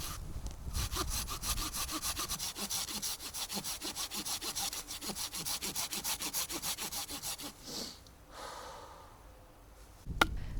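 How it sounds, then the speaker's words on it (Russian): Rapid back-and-forth saw strokes cut a ring around a piece of wood where a mallet handle will be, a rhythmic rasping close by for about seven seconds, then a pause, some handling noises and a sharp knock. "делаем пропил по окружности, где будет рукоять колотушки"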